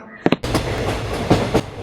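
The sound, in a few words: train starting to move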